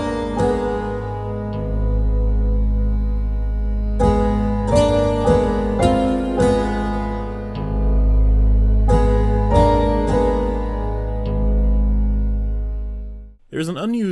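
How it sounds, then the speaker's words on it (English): Herbert's theme music from the game Amnesia: The Dark Descent plays alone: sustained low tones and swelling tonal layers with repeated struck accents, ending in a brief abrupt change. "and that was the theme for Herbert"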